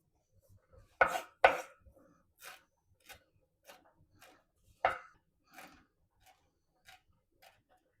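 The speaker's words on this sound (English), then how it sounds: "I'm going to chop my fresh herbs" Fresh herbs chopped with a knife on a board in a home kitchen, heard as a few sharp, close cuts, loudest near the start and again midway, then lighter scattered taps in an uneven rhythm, no talking.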